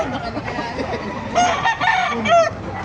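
Hens at a Baliuag market, several birds clucking and squawking close by in short irregular bursts, with a crowing note over a busy background and faint voices.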